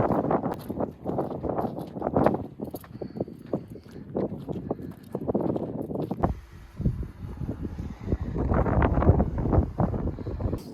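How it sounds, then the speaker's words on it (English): Strong wind buffets the microphone at an exposed spot in the Badlands, a steady low rumbling roar with gusty swells and crunching bumps, loud and constant throughout with no voices. "I apologize if you can hear the wind sound. There's a lot of wind up here."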